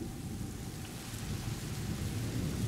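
Thunder rumbling through a lightning storm in the video game A Plague Tale: Innocence, a continuous low roar mixed with rain that swells steadily louder toward the end, with no voices.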